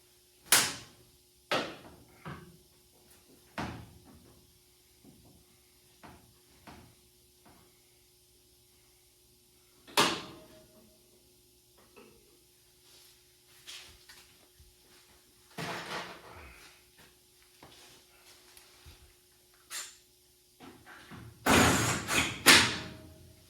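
Car doors shut and thud in a garage shop during bodywork fitting, a series of separate slams and knocks spaced through the stretch with quiet gaps, ending in a louder burst of clatter.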